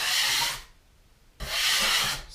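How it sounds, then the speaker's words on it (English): A scraper rasps dried joint compound off a textured drywall wall in two close strokes separated by a short pause, each a bright, scratchy rub. "scrape these away there, and then just scrape down the whole wall here"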